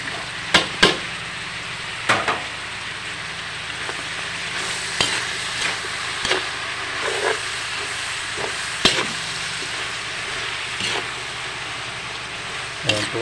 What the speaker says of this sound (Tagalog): so halo-halo lang po ito para makakok yung ating gulay